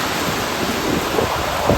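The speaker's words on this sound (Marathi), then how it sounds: "पावसामुळे वारा पण भरपूर एन्जॉय करा मित्रांनो" Heavy rain driven by strong wind pours down in a dense, constant roar of broadband noise, with faint gusts buffeting the microphone and no voices.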